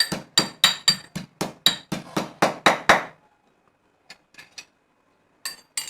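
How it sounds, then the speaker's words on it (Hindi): A rapid series of about eleven sharp pounding strikes crushing ginger pieces, evenly spaced and close, then quieter scattered taps after a pause. "अदरक के टुकड़े को कूट के"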